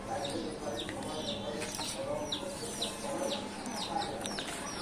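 Broiler chicks clucking and chirping faintly at a distance in a small garden, a steady scatter of calls over a low background hum.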